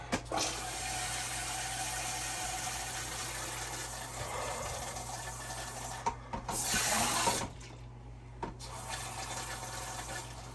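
Water running steadily through an RV toilet's plumbing after a new ball valve and seal were fitted, a close, continuous rush that briefly surges louder and cuts out a couple of times.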